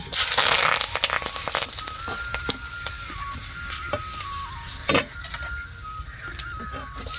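Spices such as turmeric, red chilli and garam masala sizzling in oil in a pan for a veg chicken curry, a continuous hiss with clicks and scrapes of stirring and a louder clatter near the middle.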